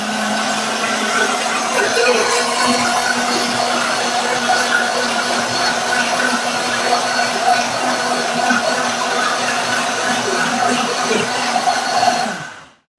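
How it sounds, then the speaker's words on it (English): A vacuum blender pumps the oxygen out of its jar before blending, giving a steady, loud motorized whir that holds for about twelve seconds and then cuts off. "So she's removing the oxygen from the blender."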